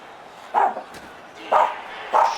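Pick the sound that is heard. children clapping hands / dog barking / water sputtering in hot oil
dog barking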